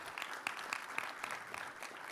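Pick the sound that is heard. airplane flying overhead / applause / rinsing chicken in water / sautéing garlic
applause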